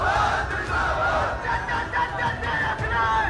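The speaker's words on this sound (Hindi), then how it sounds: "हजारों की भीड़ अखिलेश का इंतजार कर रही थी" A large crowd of supporters at Akhilesh Yadav's rally in Jhansi cheers and shouts together, a dense roar of many voices that continues without a break.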